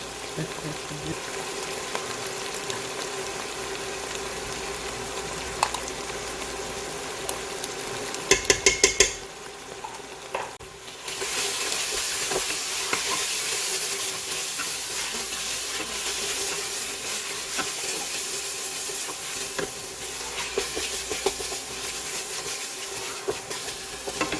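Meat frying in a tall pot with tomato paste added, a steady close sizzle and hiss running throughout, with a few clinks of a utensil against the pot and a brief drop in the sizzle partway through.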